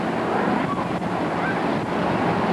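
Ocean surf rolls in a steady, loud wash, with wind buffeting the microphone throughout and no talking.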